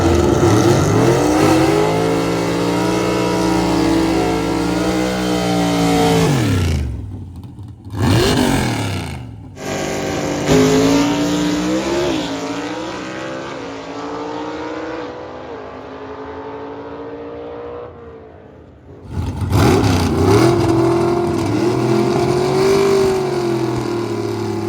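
A Pontiac-engined C-Gas gasser drag car with mechanical fuel injection, racing at a Southeast Gassers Association event, its loud engine revving and surging under load, twice briefly cutting off before roaring back.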